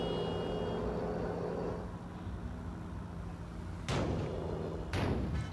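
In Bus Simulator Indonesia, a vehicle crashes with two sharp slam-like impacts about a second apart over a low, steady engine drone.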